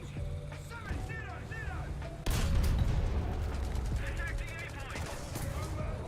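Bursts of enemy gunfire in a video game crackle loudly and continuously, with rapid-fire volleys, mechanical clatter and a heavy boom midway, layered over game ambience.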